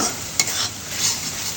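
Spoon stirring a pasta sauce with tomato ketchup and soy sauce in a pan, a steady soft scraping and sizzle with one sharper clink near the start.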